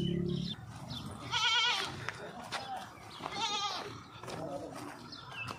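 Goats on a small farm bleat twice in loud, wavering cries close by, mixed with people talking and scuffling as the animals are handled.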